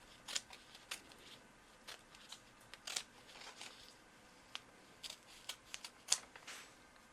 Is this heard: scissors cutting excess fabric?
yes